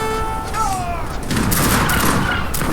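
Musket troops fire in the Age of Empires 3 strategy game, a short burst of crackling massed gunfire that follows a brief voice at the start.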